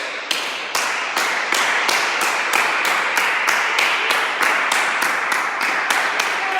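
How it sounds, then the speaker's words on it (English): A group of people claps in unison at a brisk, even pace, sharp close hand slaps repeating steadily for several seconds with no voices over them. "I vote we put our hands together in a clapping like motion."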